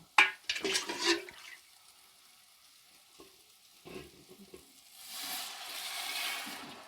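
Water pours into a cooking pot of sprouts pulao with a brief splash and rush, followed by a quieter stretch of clinks, then a steady hissing sizzle in the pot.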